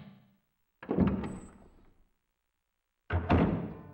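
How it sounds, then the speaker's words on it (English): A door opening in the 2008 game Resident Evil Archive, heard as two separate heavy mechanical thunks with creaking rumble, each about a second long with silence between, close and loud, no voices. "Door, Jill. Use the door."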